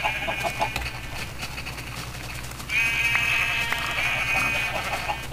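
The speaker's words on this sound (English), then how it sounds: "And a buttload of sheep." Sheep bleat in the Minecraft video game, several high, nasal calls rising over a quiet background, with a denser burst of bleating in the second half.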